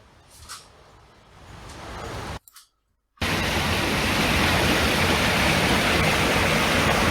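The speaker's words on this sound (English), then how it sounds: "that's where you first get a look down into the gorge where the waterfalls are." Waterfalls roaring in a deep rock gorge at the Devil's Pulpit in Scotland, a steady, loud broadband rush of falling water that swells after a brief gap, heard close and continuous.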